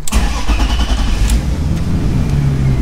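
A BMW 328i fitted with a turbo kit revs hard under load, the engine roaring loud and close with a deep, rough low-end growl and sharp bursts at the start, running on without voices.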